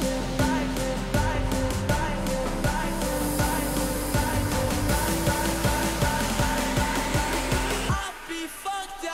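Future bass build-up with loud layered synth chords pulsing in a steady rhythm over punchy drums, cutting off sharply near the end.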